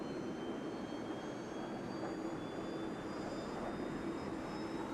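An A-4 jet in the DCS flight simulator game, a steady loud engine roar with a whining high tone running evenly throughout, no talking.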